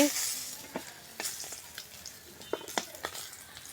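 Fish frying in hot oil in a home kitchen, a soft continuous sizzle broken by scattered spatula scrapes and clinks, at moderate volume.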